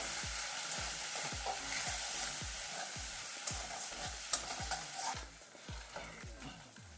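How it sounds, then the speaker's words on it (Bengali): Turmeric, chili powder and other spices for a Bengali bata fish curry with Malabar spinach sizzle steadily in a hot pan, close and loud, with a regular rhythm of spatula scrapes and stirring knocks throughout. "দিয়ে ভালো করে একটু কষিয়ে নেব"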